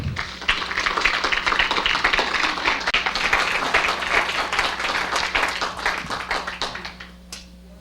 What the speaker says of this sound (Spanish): Recibimos con un fuerte aplauso a nuestra conferencista